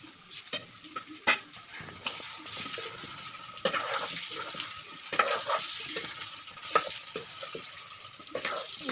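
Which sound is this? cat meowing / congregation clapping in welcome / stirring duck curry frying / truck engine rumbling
stirring duck curry frying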